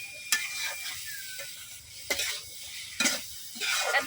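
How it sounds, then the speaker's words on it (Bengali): Pointed gourd being stir-fried with spices in a pan, a low sizzle broken by a few sharp scrapes and clatters of a spatula against the pan, close and fairly quiet. "পটলের সাথে মশলাটা খুব ভালোভাবে আমি মিশিয়ে দিচ্ছি। এখন কিছুক্ষণ কষাই নেন।"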